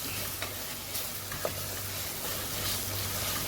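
Ginger garlic paste sizzles in a hot pan as it fries, a steady low crackle running throughout with occasional soft stirring clicks, no voices.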